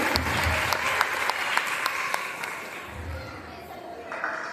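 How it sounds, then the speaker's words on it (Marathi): An audience at a nursery school gathering claps for a children's dance, with a fairly close burst of applause that fades over a few seconds while children's voices and chatter continue underneath. "यासाठी यांची जोरदार टाळ्या वाजवा."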